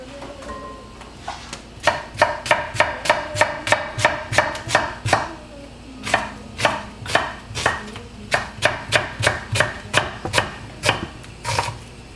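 Half a white onion being chopped with a sharp knife on a board during a cooking demonstration, a steady run of crisp, even knife strikes in quick rhythmic bursts with a brief pause midway.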